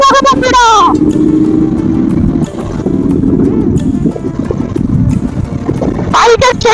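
KTM 200 Duke motorcycle being ridden after its chain was lubricated, with a loud continuous engine drone and wind rush running throughout, plus a brief rev at the start and again near the end.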